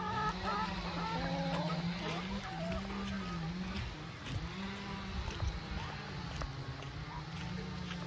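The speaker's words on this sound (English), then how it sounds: "See, we got a couple of roosters." Chickens and a couple of roosters in a coop fill the scene with steady clucking and drawn-out calls, several birds overlapping close by for the whole stretch, with a faint voice at times.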